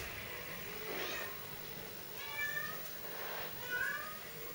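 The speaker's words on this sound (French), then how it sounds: "Il y aura un petit peu de musique de chat comme ça pendant la vidéo." A female pet cat meows indoors, giving about three short, drawn cries spaced a second or so apart. The cries are fairly quiet and close, over a soft background hiss.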